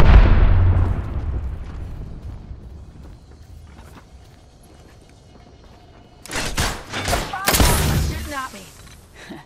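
Gunfire in a video game shooting at the player, with a loud burst of explosive impact fading into low rumble, then a second cluster of sharp shots and blasts near the end.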